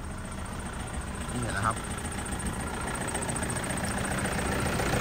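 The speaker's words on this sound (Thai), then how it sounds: "มาฟังเสียงเครื่องยนต์กันดีกว่านะครับ" A 2014 Toyota Vigo Champ 2.5 pickup engine idles steadily nearby, a smooth continuous hum throughout, with someone speaking briefly over it.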